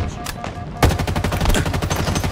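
Rapid gunfire on the Bazaar map in Halo Infinite multiplayer: after a quieter opening, a loud sustained burst of automatic shots rattles in quick rhythm to the end.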